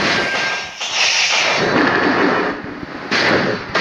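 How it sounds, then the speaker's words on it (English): A turret is destroyed in the Heroes Arena mobile battle game: a dense, loud burst of explosive, crackling game effects that fills the whole clip, dipping briefly before flaring up again near the end. "Your team has destroyed a turret!"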